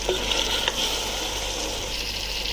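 Pumpkin and tamarind pulp frying in a mutton dalcha gravy produce a steady, soft sizzling hiss with a faint stir or clink early on, continuous and even throughout.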